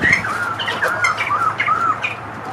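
Small savanna-type finches in a backyard aviary in Douglas, Georgia chirp and call continuously in bright overlapping tweets, with faint wing flutters as the restless birds keep flying.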